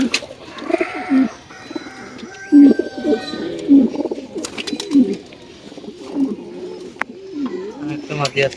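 Racing pigeons, females, cooing in a loft, with bursts of throaty coos and wing flutters interleaved with someone talking nearby.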